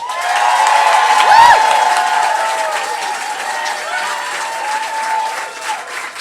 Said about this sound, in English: Let's hear it for our first storyteller, BillTorrey.